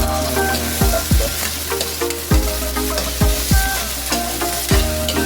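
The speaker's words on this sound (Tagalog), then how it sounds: "Igisa lang natin yan guys para kumapit" Milkfish pieces sauté in a hot pan for paksiw na bangus, a steady sizzle punctuated by several loud scrapes and stirs of a utensil against the pan, with no talking.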